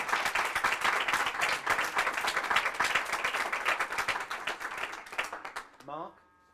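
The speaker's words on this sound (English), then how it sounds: "So first of all, round of applause for Victor." Audience applause at a certificate award ceremony, dense sustained clapping from a room of people that fades out near the end.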